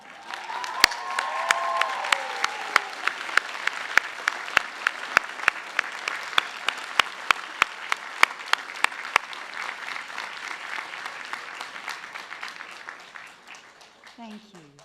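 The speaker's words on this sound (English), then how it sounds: "give them a rousing round of applause because they too have it" Graduation ceremony audience at a university science and health faculty event applauds: sustained crowd clapping fills the hall for about fifteen seconds, dense and steady, easing off toward the end.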